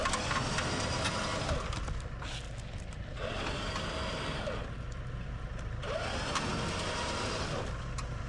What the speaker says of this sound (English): The winch is dragging it along the ground.